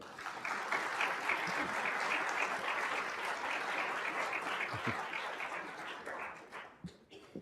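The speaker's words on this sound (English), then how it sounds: "give yourselves another round of applause" Sustained audience applause at a 2024 NTHS student induction ceremony in a hall, dense clapping from a large crowd that holds steady for several seconds before thinning out toward the end.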